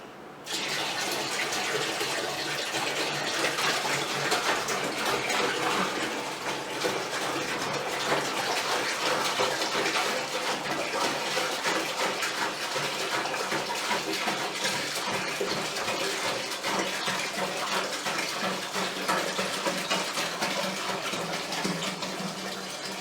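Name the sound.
liquid being poured into a home-brew beer fermenter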